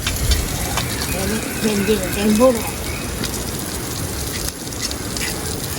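Ingredients for Jaffna mango curry being sautéed in a pan in a home kitchen, a soft, low sizzle with faint stirring and gurgling bubbles, fairly quiet and continuous.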